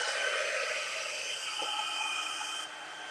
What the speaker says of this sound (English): we're going to use the heat tool